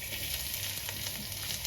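Minced meat fries in oil in a pan with a dense, continuous sizzle that stays even and fairly close throughout, with no voices.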